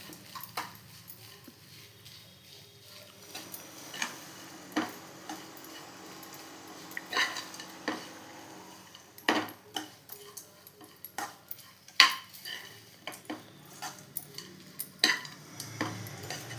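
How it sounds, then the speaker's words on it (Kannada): A spoon stirs millet upma in a pan, producing scattered scraping taps and clinks at irregular intervals, close but quiet, with a soft background hiss. "ಇದು ಚೆಂದಾಗಿ ಮಿಕ್ಸ್ ಮಾಡ್ಕೋಬೇಕು."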